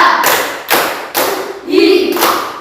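Group of people in a counseling session clapping together on a count, with several sharp bursts of hand claps in rhythm and short vocal exclamations between them.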